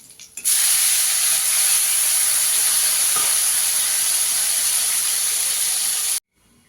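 Fish frying in oil, a loud steady sizzling hiss that starts suddenly, holds evenly for several seconds and then stops sharply.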